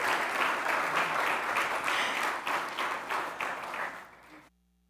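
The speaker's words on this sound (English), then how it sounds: "So let's give them one more round of applause" A church congregation at a Sunday worship service claps in a full, sustained round of applause that fades out and then cuts to near silence.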